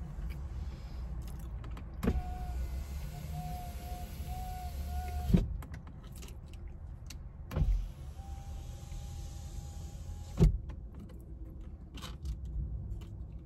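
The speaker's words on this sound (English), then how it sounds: "I might have to roll up the window" An electric car window hums as it rolls, in two separate runs, with thumps and clicks marking each start and stop inside a quiet cabin.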